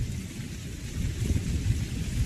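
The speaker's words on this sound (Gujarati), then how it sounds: "વરસાદ ધીમો ધીમો ચાલુ છે" Light rain falls steadily outdoors, a dense, even hiss with low rumbling texture throughout, with no talk over it.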